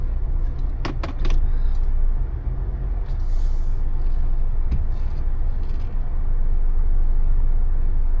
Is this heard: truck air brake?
yes